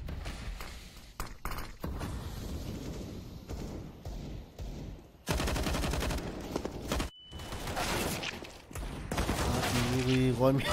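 Counter-Strike gunfire on the Mirage map during a FURIA vs. eUnited match at IEM Katowice 2019 Americas Minor, with bursts of rapid shots and sharp thuds, loud and dense, under an excited commentator's voice.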